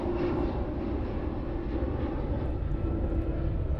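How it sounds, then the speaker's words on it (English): A fixed-wing airplane passes low overhead near an airport in a backyard woodland garden, a steady loud engine roar filling the whole stretch without letup. "Sorry about the plane, I live near the airport."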